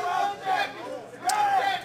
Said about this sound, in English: The crowd is getting quite loud. A lot of people are on their feet